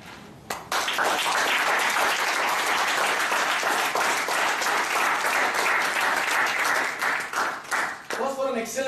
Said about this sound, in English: let's give the Toastmaster a round of applause first